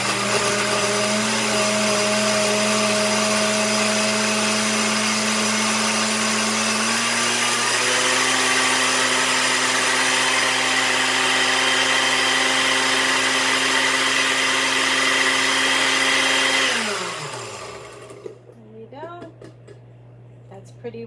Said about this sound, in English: And then I'm going to cover it. I'm going to blend